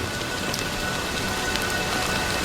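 Steady rain falls and patters on surfaces, an even, close hiss of drops with no voices over it.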